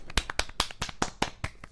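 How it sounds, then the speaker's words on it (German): A short burst of about eight crisp handclaps in an even rhythm, close and moderately loud, sounding like one person clapping rather than a crowd. "Komm, also ein bisschen Applaus jetzt hier."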